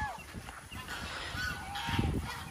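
Geese honk repeatedly close by near water outdoors, a brief burst of overlapping loud calls.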